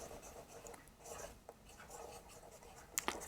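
Pen scratches across paper in short strokes and pauses, soft and close, jotting lecture notes on the Huygens principle in a wave optics class, with a sharper scrape near the end.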